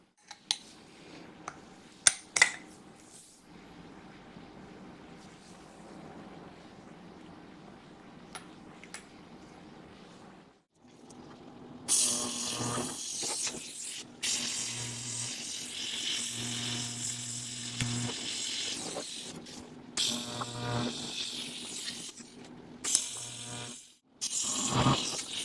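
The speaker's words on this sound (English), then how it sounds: "I'm going to go ahead and tack weld these together." Short bursts of crackling and buzzing MIG-style tack welds join steel lower bars for a bagged minitruck, the loud welding crackle arriving in several separate pulses after a quieter stretch of shop clinks.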